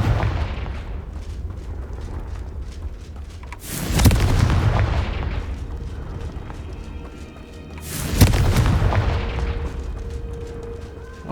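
A Confringo blasting spell from Hogwarts Legacy erupts in two loud, booming explosions a few seconds apart, each with a sharp crack and a rumbling tail over a steady background of game ambience.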